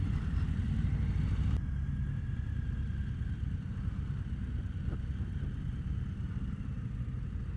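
A 2022 Harley-Davidson Low Rider S FXLRS with the 117 engine rumbles steadily at low speed during slow riding maneuvers, a constant deep drone with wind noise and no speech.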